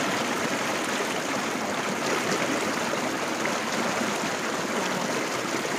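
Water from the stream at Harangajao waterfall rushes loudly and steadily close by, a constant broadband wash that never lets up.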